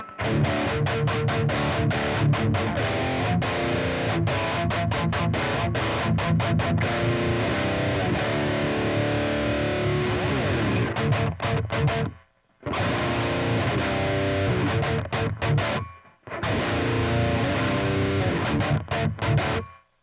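Heavily overdriven electric guitar through a drive pedal with the tone set high, playing chords and riffs, loud and sustained, with two brief silent breaks between phrases.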